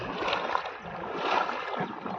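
A homemade pedal-powered cycle boat moves through water, with soft rhythmic splashing and swishing in two surges, close by and fairly quiet, without speech.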